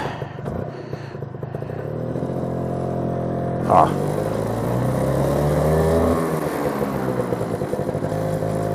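An Orbar motorbike engine revs and pulls loudly on a test ride, rising and falling in pitch with some clatter and road noise.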